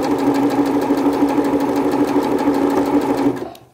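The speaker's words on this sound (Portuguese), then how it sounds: "eu vou costurar um pouquinho fora do pezinho da máquina" A sewing machine stitching fabric scraps runs steadily at speed with a loud, close, buzzing mechanical drone and rapid needle rhythm, then stops abruptly at the end.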